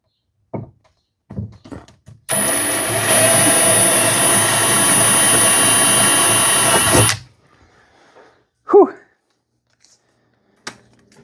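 A power drill bores pilot holes for a Cervini Stalker hood rain guard in one loud, steady whirring burst of about five seconds, with scattered clicks and handling knocks before and after.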